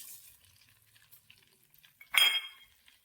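Fennel seeds go into hot oil for pickle masala and are stirred with a spoon, giving light scraping clinks followed by a sudden loud sizzling hiss that slowly fades.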